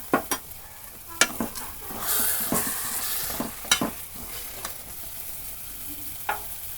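Spices frying in oil in a pan for a potato and egg curry, a steady sizzle broken by sharp scraping clicks of a spoon stirring against the metal, close and alone with no talk.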